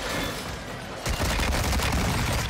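Rapid gunfire in a shooter video game, with a burst of close shots breaking out midway over a busy, loud background.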